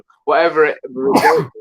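A single sneeze, close and loud, during a football preview discussion ahead of Nottingham Forest versus Fulham, coming right after a man's brief speech.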